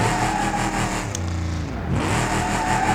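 Car engine revving steadily in a driving video game during a drifting training run, the car held in second gear; a continuous loud, mid-pitched engine drone with shifting harmonics, no talk over it.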